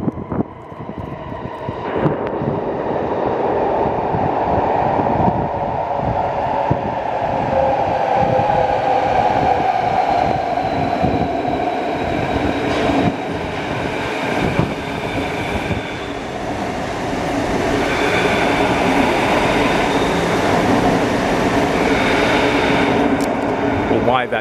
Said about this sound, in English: Oh no, there is a train coming.